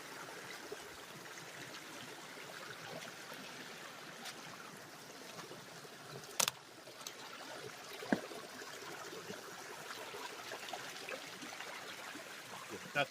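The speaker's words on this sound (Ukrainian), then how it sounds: "Тільки вода гуркотить." Steady, soft rushing of a mountain stream in the Carpathian forest flows throughout, with a couple of faint clicks and knocks nearby.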